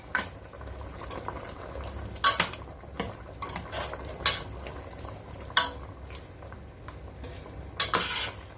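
Pineapple curry boiling in a pot, a steady bubbling hiss with occasional sharp clinks and taps of a utensil against the pot, close by and with no talking.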